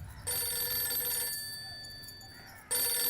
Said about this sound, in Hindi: सुनिए, आपका फोन।